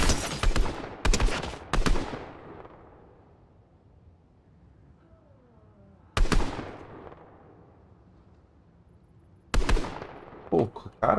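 Bursts of gunfire in a Fortnite Chapter 3 Season 3 match: a rapid cluster of sharp shots at the start, then single loud bursts several seconds apart, with a quiet stretch between.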